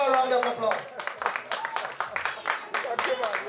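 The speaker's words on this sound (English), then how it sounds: "Let's give her a round of applause." Audience at a cultural community event applauds and whoops for a returning female singer, with dense clapping and cheering mixed among voices throughout.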